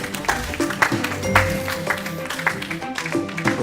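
Audience applause for performers at an event, a short stretch of close, irregular clapping at moderate loudness.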